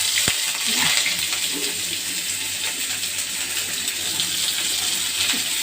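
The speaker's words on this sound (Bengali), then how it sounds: "আমি বেরেস্তা বানাবো, ওই কিছু পেঁয়াজ ভাজিয়ে নিয়ে এলে" Sliced onions fry in hot oil for birista, crisp fried onions for chicken rezala. The sizzle is loud and continuous with watery bubbling and a few sharp clinks near the start, and no one speaks.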